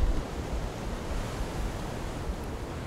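Waves break on a large sandy beach on the Moroccan coast, a continuous loud roar of surf with no pauses or separate crashes, and no voices.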